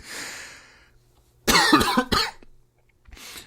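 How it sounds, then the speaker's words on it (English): A couple of sharp, close coughs followed by a softer throat sound, with quiet pauses in between. "There's going to be some coughing."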